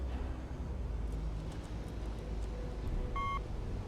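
Short electronic beep in the video game Elex 2, a single clean tone sounding once near the end over a steady, low background hum.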